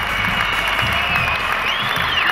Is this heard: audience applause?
yes